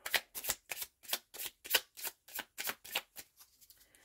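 A deck of tarot cards is shuffled close by in about a dozen quick, even bursts of rustling flicks that gradually soften and thin out at the end, with no voices.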